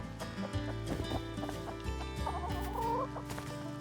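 Chickens in the survival video game Rust cluck repeatedly in a steady, close stream over a constant background hum, with a brief rising squawk near the end.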